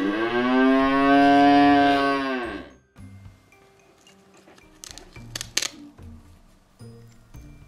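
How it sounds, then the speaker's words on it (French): A wooden farm toy plays a recorded cow moo, one long loud lowing call lasting about three seconds, followed by quieter clicks and handling clatter of wooden toy pieces. "C'est une vache."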